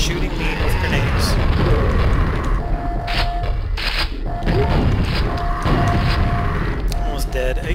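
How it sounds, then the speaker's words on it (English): Grenade explosions in Quake, a string of loud, punchy booms and crashes repeating irregularly over several seconds, mixed with gunfire and game effects, with a voice speaking over the chaos. "Stop shooting me with grenades."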